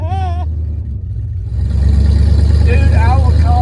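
A Hemi-swapped Dodge Dakota engine runs with a loud, steady low rumble, briefly dropping away before a heavier surge swells back in; voices talk over the engine near the start and end.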